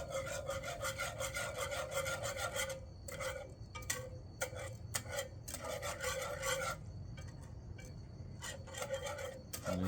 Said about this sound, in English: let's stir this in